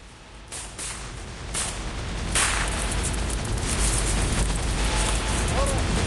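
Gunfire in the middle of a combat assault, sharp cracks and booms crowding over each other in dense, loud, rough noise throughout, with voices shouting under the din.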